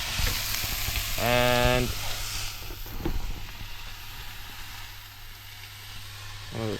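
Onions sizzle and fry in a pan at a camp cookout, a continuous close crackling hiss with occasional stirring scrapes, and a brief voice speaks over it.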